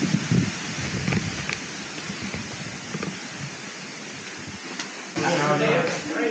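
Strong wind gusting and roaring outside a tent on a mountain campsite at night, a broad rushing noise with flapping, and a person speaking briefly near the end.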